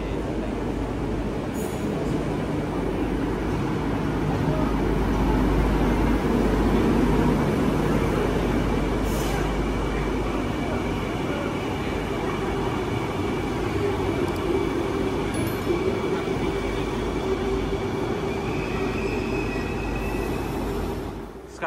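Train near Tumpat, Malaysia, a continuous loud rumble of rolling carriages with faint squealing wheel tones and a brief swell midway, steady for the whole stretch without speech.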